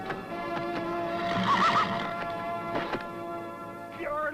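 A horse whinnies loudly in an outdoor scene, a rising and falling neigh in the middle, with hoof clops and scuffling around it and a voice briefly.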